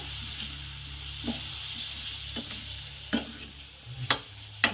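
Ridge gourd bhaji being mixed in a pan with a little added water, giving faint, sparse scrapes and soft stirring knocks over a low, steady cooking hiss.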